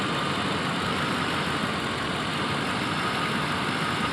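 A 1993 Lincoln Town Car engine runs at a steady idle during a cooling system flush, a loud continuous broadband drone with no talking.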